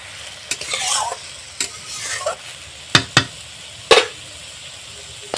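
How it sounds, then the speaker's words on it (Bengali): Ridge gourd and potato sauté with ginger paste in a pan, a continuous soft sizzle broken by several sharp spatula scrapes and knocks against the pan, in an irregular rhythm and without talking. "এইভাবে আমি ঝিঙে আর আলুটাকে কষিয়ে নিয়েছি"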